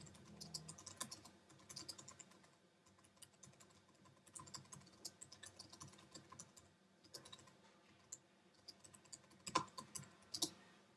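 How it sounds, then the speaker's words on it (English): A computer keyboard being typed on to enter a short comment, with irregular bursts of quick, light key clicks and a few brief pauses, plus some louder taps near the end, close and quiet with no talk. "I can type in any comment that I want"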